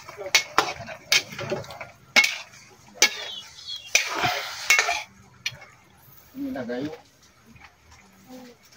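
A spoon stirs sautéed opo, or queen pango, in a pan: sporadic clinks, scrapes and soft sizzling bursts, fairly quiet, with someone speaking in between.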